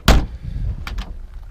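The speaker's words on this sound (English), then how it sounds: "the door's shut." The door of a 1966 Ford Mustang hardtop swings shut with one solid, close thud, followed by a couple of faint latch clicks.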